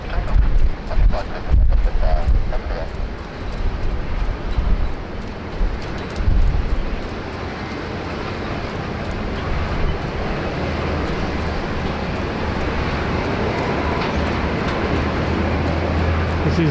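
A Jetstar airliner takes off from runway 16 right at Sydney Airport, a loud continuous jet engine roar with heavy low rumble that holds steady throughout, heard from a distance with some wind buffeting, no talk.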